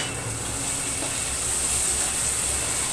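Chopped onion goes into hot oil in a pan and fries with a steady, close sizzling hiss that runs unbroken throughout, with no talking.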